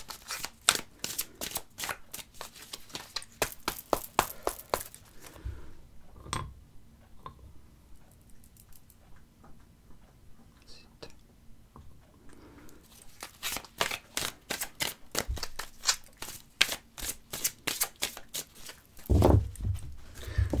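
Oracle cards are shuffled during a card reading: rapid, crisp riffling bursts open and close the passage, with quieter taps and handling of the deck in between.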